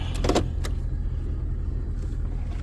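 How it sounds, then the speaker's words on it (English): Low, steady rumble of a 2-ton military truck engine idling in park, with a few brief clicks and rattles near the start. "Motor just idling like a kitten."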